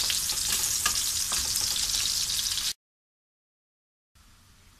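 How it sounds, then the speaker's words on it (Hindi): Onions fry in oil in a pot, giving a loud, even crackling sizzle with faint stirring taps that stops abruptly partway through, followed by a gap of silence and then a quieter sizzle resuming. "उसको हम फ्राई कर रहे हैं।"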